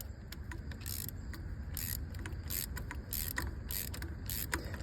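A ratchet loosens a spark plug on a 2010–15 Toyota Prius, worked back and forth in repeated bursts of ticking clicks with metallic creaks between them, close and without talk.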